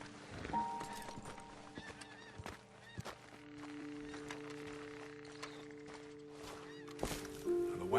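Horses in Red Dead Redemption 2 whinny and snort near a roadside ledge, with scattered hoof clops on the ground over a steady game ambience and a low droning tone.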